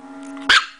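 A dog gives a single short, sharp bark on the "speak" command, heard close up after a brief quiet moment indoors.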